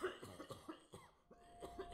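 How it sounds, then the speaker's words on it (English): A sick man coughs a couple of times with a cold, a run of short muffled hacking coughs, close and fairly quiet. "Hector coughs a couple times before speaking again."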